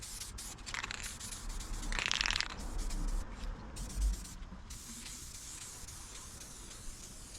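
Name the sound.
spray paint coating car dashboard parts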